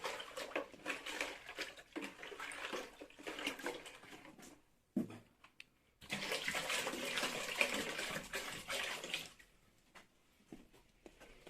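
Water poured into a large container to make sauerkraut brine in Bulgaria, a loud continuous gushing splash that stops briefly, then resumes for a few more seconds before tapering off.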